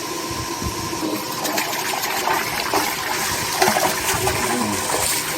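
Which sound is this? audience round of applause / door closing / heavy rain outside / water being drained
water being drained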